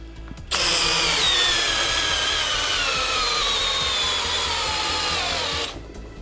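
A Milwaukee M12 cordless drill-driver runs loud and close in one continuous whine of about five seconds, with a sharp start and a clean stop and no talking.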